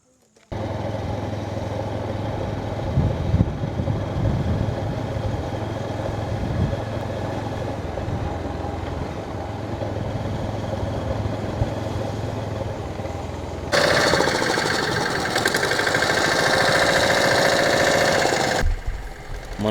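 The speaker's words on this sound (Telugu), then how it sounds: "మన కోసమే ఆ బోట్ వస్తూ ఉంది" A boat engine on the Godavari River approaches, chugging and droning steadily at mid pitch for a long stretch, then turning louder and harsher near the end before stopping abruptly.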